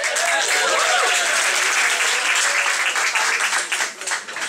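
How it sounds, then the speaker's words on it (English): Enthusiastic audience applause at a live music gig in a small venue, loud dense clapping with whoops and cheers, dipping briefly near the end. "Give a big round of applause to Simon Ward here."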